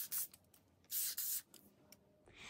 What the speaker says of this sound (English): Now let's give them a quick spray with water.